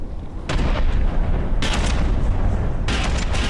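Wing missiles launch in the naval combat game From the Depths, a sustained loud roar of booming, rumbling blasts that swells in three heavy surges with no talking over it.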